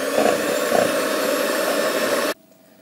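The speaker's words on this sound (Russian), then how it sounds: "К белкам добавляю 1 столовую ложку лимонного сока и продолжаю взбивать." An electric mixer whips egg whites with powdered sugar, giving a loud, steady whirring motor drone close by that cuts off abruptly near the end, leaving near silence.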